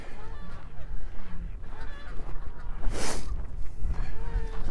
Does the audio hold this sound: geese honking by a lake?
yes